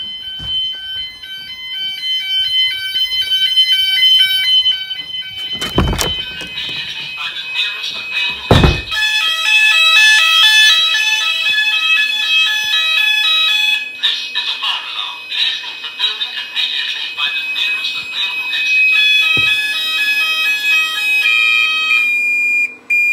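A loud electronic Gent Vigilon fire alarm sounds continuously with a shrill pulsing tone during a system test with test spray, broken by a few sharp knocks and brief quiet moments.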